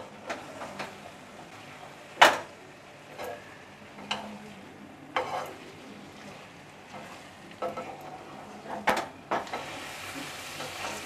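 Grated coconut and coriander being stirred into bombil methi, a Koli-style dish of dried Bombay duck fish with fenugreek, frying in a pan: soft continuous sizzle under scattered spoon scrapes and taps, fairly faint, no talk.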